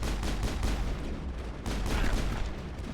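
Enemy turrets in a space combat game fire rapid, dense volleys of gunfire, a continuous rattling barrage that is fairly close and steady throughout.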